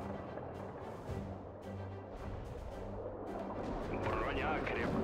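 Soviet artillery and guns firing in a WWII real-time strategy game, a dense, continuous roar of booming shots and crashes layered under game voice lines, growing louder toward the end.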